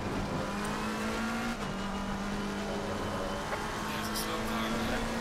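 McLaren 720S GT3 race car engine in Assetto Corsa Competizione, a sustained high-revving drone at speed with a brief dip like a gear change, steady and fairly loud, with faint tire noise and no clear speech.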